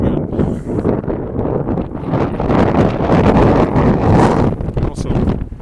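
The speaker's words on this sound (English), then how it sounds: "Now we'll be walking into the wind." Wind buffets a microphone while someone walks outdoors near a frozen creek in snowy November weather in Regina, producing a loud, continuous roaring rumble with gusty swells.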